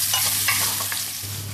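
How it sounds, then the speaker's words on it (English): Garlic, ginger, cinnamon, star anise, cardamom and cloves sizzle in hot oil in a pan while being stirred, with soft scraping strokes over a steady close frying hiss. "Give it a little stir."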